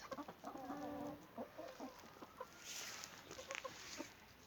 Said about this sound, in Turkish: Bir de orada bir tavuğumuz var.